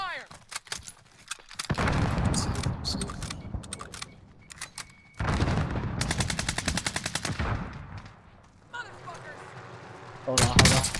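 Bursts of automatic gunfire in Call of Duty Cold War Warzone, two long rapid volleys split by quieter gaps with scattered single shots, loud and near, with a voice talking briefly between them.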